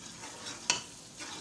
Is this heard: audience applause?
no